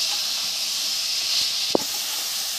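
Panch phoron spices with salt and turmeric frying in hot oil for a mixed vegetable curry, giving a steady, close sizzling hiss throughout with one brief sharp crackle partway through.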